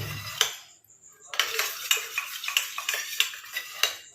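A spoon stirs a squeezed herbal hair-oil mixture in a bowl, clinking against the sides in repeated sharp taps with a short pause early on, close and fairly quiet with no voices.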